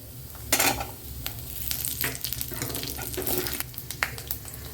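Garlic fries in a pan with dried chillies and tamarind for mint chutney, a loud continuous sizzle with spatula scrapes and stirring bursts throughout. There is no talk.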